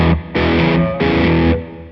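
Distorted electric guitar picked close to the bridge for a sharp, metallic tone on a signature rig: loud sustained chords struck in two or three bursts, close and saturated, with no talking.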